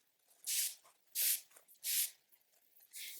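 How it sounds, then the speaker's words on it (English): MAC Fix Plus setting spray misted onto a face in four short, close hissing bursts spaced under a second apart, with quiet pauses between. "take a couple sprays of MAC Fix Plus or any setting spray that you might have and just give your face a couple of sprays"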